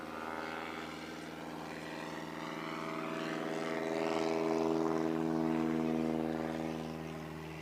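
A STOL airplane takes off during a short-takeoff competition at the Valdez Fly-In and Air Show, its propeller engine droning with a steady harmonic hum that swells louder midway, then eases slightly.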